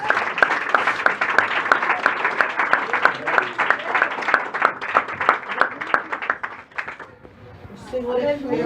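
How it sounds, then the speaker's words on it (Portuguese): A church congregation claps in praise, many hands beating a fast, fairly regular rhythm close by while voices chatter and call out over it; the clapping fades out near the end as a voice continues. "Aleluia, as palmas louvam o Senhor."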